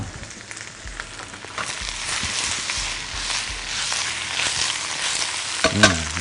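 Cabbage stir-fries in a hot pan with a continuous close sizzle and rustling as the pieces are tossed, light scrapes of a utensil throughout and a brief clatter near the end, with no talking.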